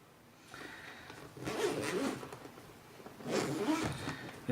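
Zipper being pulled open and closed on a small carrying case for an APEMAN A80 action camera, two rasping zip strokes a couple of seconds apart, close and fairly quiet.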